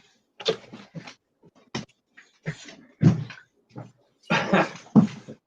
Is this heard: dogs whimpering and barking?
yes